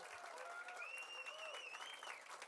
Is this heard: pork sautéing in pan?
no